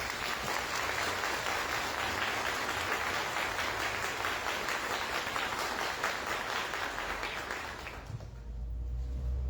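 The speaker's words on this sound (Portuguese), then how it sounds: "Então vamos acolher uma salva de palmas." A church congregation at a feast-day Mass applauds, dense even clapping filling a large space for about eight seconds before fading out, followed by low rumbling room noise.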